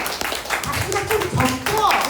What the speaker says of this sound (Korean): 예쁘면 여러분 박수 한번 쳐주세요